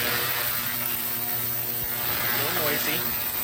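An ultrasonic cleaner runs with a steady mechanical hum and a light continuous rattle, loud and close, holding evenly throughout without pause.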